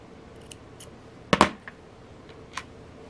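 Scissors snip through nylon bracelet cord in a quiet room: one sharp double-click cut stands out near the middle, with a few faint ticks before and after.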